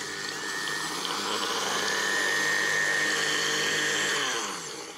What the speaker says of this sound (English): Blend it up.